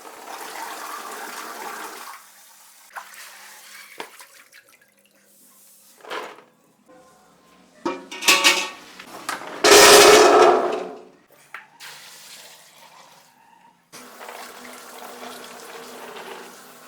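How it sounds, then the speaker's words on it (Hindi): Water gushes into a pot for boiling wild amla while making chyawanprash, with a loud rushing pour midway between quieter splashes and drips. "इसमें हम पूरा पानी भर देंगे इसमें।"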